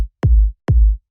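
The low-end layer of a techno kick drum, built for fullness and fatness. Three heavy, boomy kicks hit evenly with short gaps of silence between them, loud and isolated.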